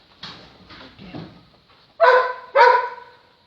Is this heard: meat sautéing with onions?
no